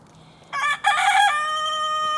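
A rooster crows loudly and close by in a backyard where chickens are fed scraps, one strong cock-a-doodle-doo call with a short break, and its long final note trailing off, no talking.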